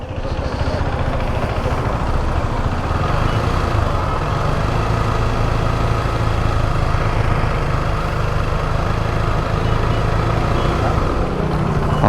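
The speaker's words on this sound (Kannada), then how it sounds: "ಗಾಡಿ ರೈಸ್ ಮಾಡಿ." A vehicle engine runs loudly and steadily at close range during an emissions smoke test, its rough droning rumble holding an even level throughout with no talk heard.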